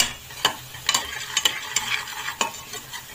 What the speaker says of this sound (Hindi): इन सबको हम थोड़ा सा अच्छे से मिक्स कर लेंगे।